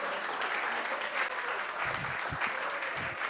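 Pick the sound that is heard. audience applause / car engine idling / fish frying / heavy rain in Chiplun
audience applause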